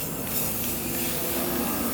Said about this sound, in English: you can just spray it down